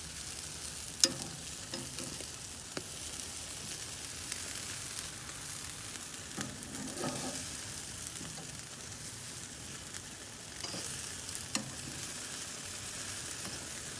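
Chicken wings sizzle over an outdoor grill fire, making a continuous moderate crackling hiss with occasional louder pops and clicks, and no talking.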